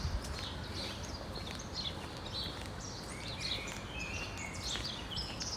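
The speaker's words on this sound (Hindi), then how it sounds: "ये जो आवाज़ें हैं चिड़ियों की" Birds chirp and twitter steadily in a Hernani street on a Sunday morning, several quick overlapping calls heard at a distance over a constant low rumble of ambient outdoor noise.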